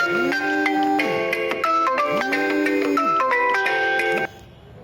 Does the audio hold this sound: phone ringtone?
yes